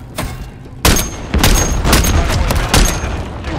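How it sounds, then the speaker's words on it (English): Rapid gunfire from Call of Duty MW3 crackles in loud overlapping bursts, with booming blasts and sustained shots filling the stretch. "I'm taking fire."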